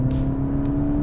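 A car with a 2.0T TSI turbo engine pulls under load with a steady, loud engine drone and fairly even pitch throughout this short stretch.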